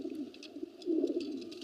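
Old pigeons, seventeen-year-old birds in a pigeon house, cooing softly in a low, throaty murmur that swells near the end over faint rustling.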